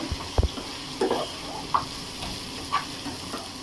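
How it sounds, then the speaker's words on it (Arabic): Chard sizzling with browned garlic in a frying pan, a soft steady fry with a few brief stirring scrapes and knocks, close and moderately quiet, no voices. "هنا التومه اصفرت، هنزل بقى بالايه السلق"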